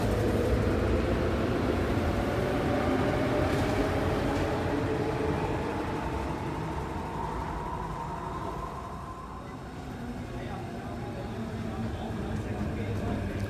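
A K subway train rumbles steadily through Olympic Station, a loud sustained roar of wheels and motors that eases slightly midway and swells again, with station voices mixed faintly underneath.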